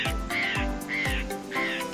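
A jay gives three harsh, raspy calls, evenly spaced across about two seconds. The calls are loud and close, with no talking.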